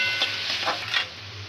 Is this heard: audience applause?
no